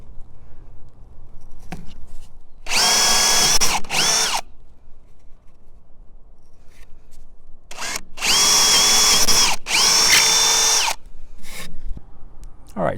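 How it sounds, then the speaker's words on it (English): A power drill whines in two bursts of about two seconds each while boring holes to install an Architectural Mailboxes Oasis 360 locking mailbox, close and loud, with quiet handling noises between. "Next, drill the 4 necessary holes."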